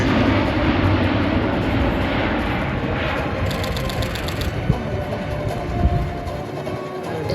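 Airbus A400M military transport aircraft pulling into a steep tactical climb during an air show display at La Ferté-Alais, a loud continuous broad roar of turboprop engines that stays steady and dense throughout.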